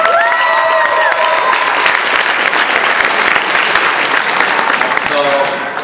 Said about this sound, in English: Give a round of applause for the people that put it.